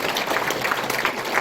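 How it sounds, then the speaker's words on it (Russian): A short burst of applause from a crowd at a reception for the Japanese Emperor's Birthday in Khabarovsk, brisk clapping heard up close. "Аплодисменты."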